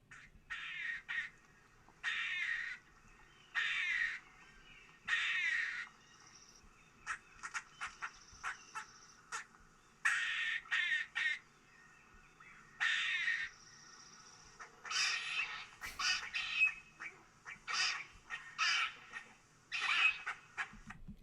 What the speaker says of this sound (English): Gray squirrel to me just sounds like something's dying. It's quite harsh. A harsh nasally call.